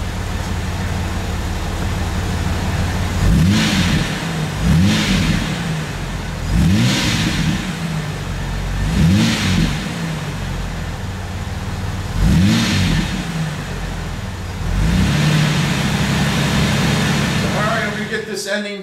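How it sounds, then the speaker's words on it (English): Jeep engine with a freshly refilled Dana 35 rear differential revved repeatedly in a garage, five or six rising bursts a few seconds apart over a steady idle, fairly close. "Now I'm going to race the engine up."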